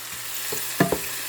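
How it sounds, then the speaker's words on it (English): Onions and minced garlic sauté in a pan for chili con carne, a short burst of close sizzling with a few sharp stirring scrapes and clicks. "So saute or sweat your onions until this will become fragrant."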